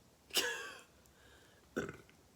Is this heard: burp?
yes